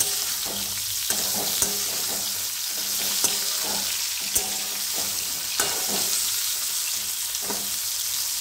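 Tinda masala curry sizzles and fries steadily in a pan, a loud close hiss with periodic scraping stir strokes, and no one talks over it.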